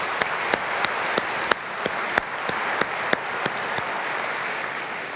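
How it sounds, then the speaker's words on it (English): Keynote audience applause, an even, sustained patter of many hands with sharper individual claps and whistles poking through at regular intervals, no voices over it. "Let's give another round of applause."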